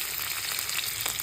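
Onion with mustard seeds and cumin, then curry leaves and spices, fries in hot oil for a Karnataka-style sagu, giving a close, steady, dense sizzle and crackle with no voices.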